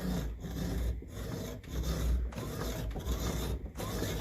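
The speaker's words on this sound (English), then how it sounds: "The junior hacksaw is actually probably best for this" Junior hacksaw cutting a slot into the throttle valve of a 1954 Ferguson 20 TEF diesel tractor, steady back-and-forth rasping strokes in an even rhythm, close and clear without speech.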